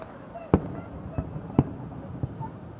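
Several distant Fourth of July firework bangs pop sharply at irregular intervals against a faint background hum, each a short crack standing out from the quiet.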